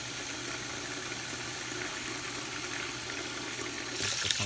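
Hot water runs from a tap in a steady, hissing stream for several seconds, growing louder near the end as the flow strikes something, with no talking over it.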